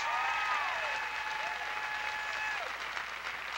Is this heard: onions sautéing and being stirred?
no